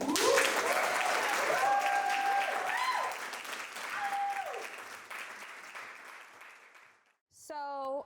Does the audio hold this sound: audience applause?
yes